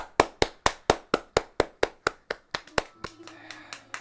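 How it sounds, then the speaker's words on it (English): Audience clapping to vote: about a dozen sharp, evenly spaced claps in a steady rhythm, followed by a few looser claps over a low hum near the end. "You can clap for the one you like fast."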